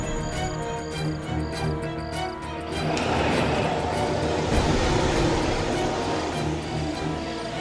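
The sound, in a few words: bus engine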